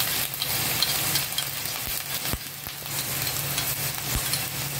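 Steady hiss and crackle of onion paste with nigella, garlic and green chili paste frying in a pan over a medium gas flame, close and continuous, with a few utensil knocks and scrapes.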